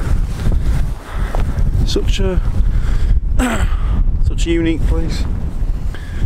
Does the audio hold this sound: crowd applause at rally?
no